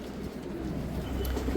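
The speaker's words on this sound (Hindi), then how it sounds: "कबूतर बहुत प्यारे परिंदे हैं माशाल्लाह, उम्दा क्वालिटी का" Pigeons at a bird market give soft, low cooing over a constant background murmur, close and fairly loud throughout.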